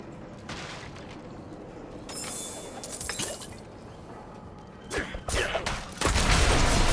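Enemies blowing apart in Diablo IV, heard as bursts of shattering, crackling blasts that build toward a loud, dense burst at the end.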